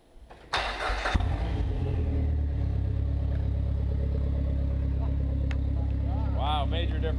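A 2004 Dodge SRT-4 Neon fitted with a 3-inch MPX exhaust cranks and fires up, then settles into a loud, steady idle rumble close by.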